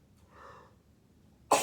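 A single sudden sneeze bursts out loudly at the end, preceded by a soft breathy inhale, from a Pilates instructor in a small indoor space.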